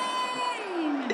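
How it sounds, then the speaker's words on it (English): A large concert crowd cheers and whoops steadily at Eurovision in Concert 2019 in Amsterdam around Spain's entry, a dense roar that fills the whole moment with a rising tonal sweep near the end. "Listen to the crowd."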